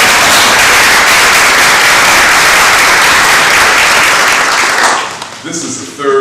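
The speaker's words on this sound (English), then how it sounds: "you can clap." Loud, dense audience clapping at a historical society reading of a Frederick Douglass speech, sustained for about five seconds before fading out, with a voice beginning to speak as it ends.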